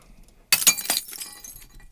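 Glass shattering layered over impact hits for sound design: one sudden loud crash bursts in, then bright tinkling shards scatter and fade over the next second and a half, with no voices.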